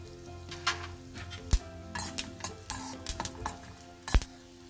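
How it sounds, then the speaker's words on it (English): Peanuts and sesame seeds roast in a pan for kushka biryani, with faint scattered sizzling and intermittent scraping and clinking of a stirring spoon against metal, quiet and close. "To this we'll add peanuts. Roast them a little bit. We'll add sesame seeds."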